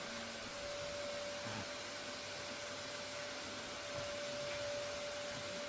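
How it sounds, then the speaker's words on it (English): A vacuum cleaner hoovers inside a cave, a steady, even motor drone with a constant whine running throughout, fairly close and without talk. "He loves a hoover."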